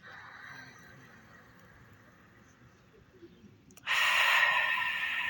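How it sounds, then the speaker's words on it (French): Throat-constricted ujjayi yoga breath, a steady hushing airflow that builds to a louder, rougher exhale near the end, close and alone. "Ujjayi, c'est comme exercer une petite contraction dans la gorge et que la respiration elle devienne audible en fait."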